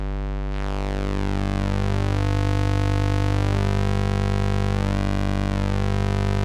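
A steady, buzzy analog synthesizer square wave holds a low note on a Korg Polysix, its harmonics slowly shifting and sweeping, with a deep sub-oscillator bass layer and no pauses.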